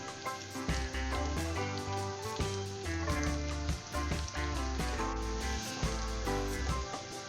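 Onion and garlic sizzling steadily in a hot pan, a continuous bright frying crackle at moderate loudness with no voices.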